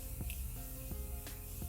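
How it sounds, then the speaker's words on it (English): Morphe Continuous Setting Mist spritzed in a few short, soft hissing puffs, faint and close against a quiet room hum. "For setting spray, we are going to be using the Morphe Continuous Setting Mist."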